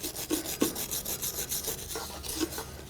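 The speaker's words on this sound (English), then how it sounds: "Just going to take a wire brush," A wire brush scrubs rust off the edge of a front wheel hub bearing from a 2004-08 Nissan Maxima, making quick repeated scratchy strokes in a steady rhythm, close up and fairly quiet.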